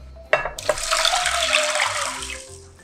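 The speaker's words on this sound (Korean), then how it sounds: "물을 800ml 정도 이렇게 부어주세요." About 800 ml of water is poured steadily into a pot holding ground rice and cooked red beans for pumpkin porridge, a close, continuous splashing rush that starts with a few clinks and tapers off.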